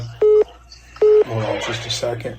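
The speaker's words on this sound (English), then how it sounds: "so my apologies for my phone beeping if you're wondering what that was." Two loud, clear electronic beeps about a second apart from a cell phone signalling an incoming call, followed by someone speaking briefly.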